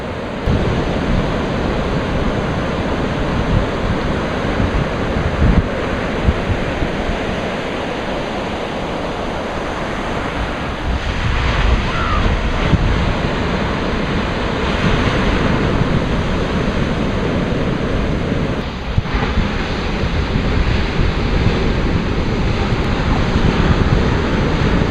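Ocean surf breaks continuously as surfers ride the waves, a loud, broad wash of crashing water and spray with steady roar and no voices.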